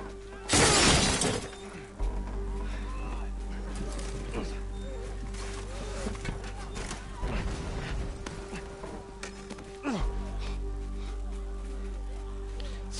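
Glass shatters in The Last of Us Remastered, one loud crash near the start followed by scattered debris and a steady buzzing game ambience, with a smaller impact later on.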